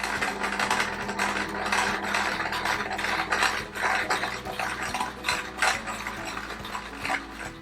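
A sewing machine runs in quick, steady bursts while blue fabric triangles are stitched onto the sides of a quilt's inner square, giving a close, fast mechanical rattle with short pauses and no talk.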